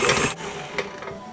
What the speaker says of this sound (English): I'm going to turn my mixer on and just mix this up and fluff it up a little bit